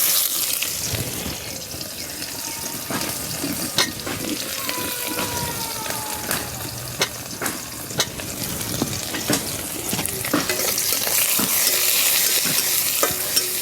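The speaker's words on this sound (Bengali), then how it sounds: "এরপর দিয়ে দেবো পেঁয়াজ কুচি" Chopped onion frying in hot oil with bay leaves in a pan, stirred with a spoon: steady sizzling hiss throughout with repeated scraping clicks of the stirring, close and alone.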